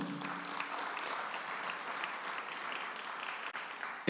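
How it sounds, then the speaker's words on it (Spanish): A church congregation gives sustained applause at a worship service, soft and somewhat distant clapping holding steady throughout with a brief voice near the start. "le damos un fuerte aplauso al Señor"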